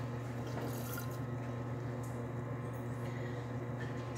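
Water is sponged or pulled from the center of a freshly thrown clay bowl on a pottery wheel, giving a soft, steady wet swishing and dripping close by over a constant low wheel hum.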